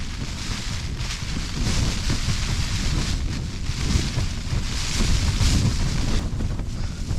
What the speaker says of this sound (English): it's windy out there, it really is windy